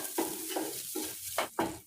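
Masala is stirred in a frying pan with a spoon, several distinct scraping strokes over a light sizzle, close and moderately loud, with no voices.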